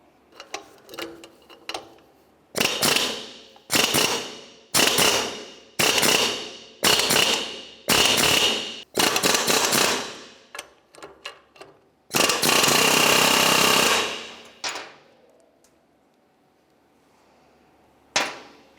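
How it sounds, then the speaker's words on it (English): A control arm bushing on a Chevrolet Cobalt is driven out with a rapid, loud run of close metallic hammer blows in bursts and one longer sustained stretch, with gaps of quiet between them. "As I'm driving it out through this side, you're going to be able to see it comes out a little bit along the back side"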